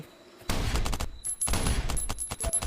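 Gunshots in the survival shooter game Last Island of Survival, a ragged burst of close, loud sharp reports firing in irregular quick succession, with brief gaps between clusters.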